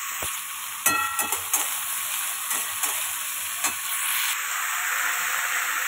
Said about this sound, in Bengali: আলুটা ভেজে দিই